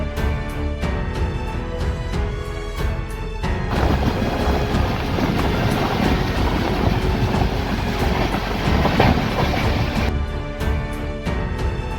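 Devagiri Express, train 17057 from CSMT to Lingampalli, rumbling along the rails with steady clattering wheel noise, growing louder and denser through the middle stretch before easing slightly, with sharp knocks at the start and end.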